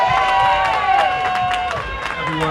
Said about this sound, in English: give a big round of applause, y'all!